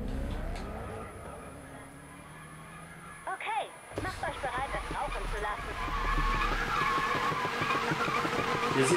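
A car drifts in the Need for Speed racing game on Xbox One, with steady engine roar and skidding tire squeal building through the second half while a voice talks over it.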